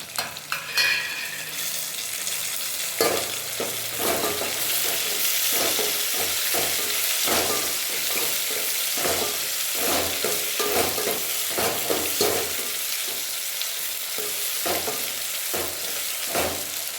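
Onion, tomato and green chilli sauté in a pan for a quail curry, a continuous close sizzle broken by frequent spatula scrapes and stirring knocks, with no voices.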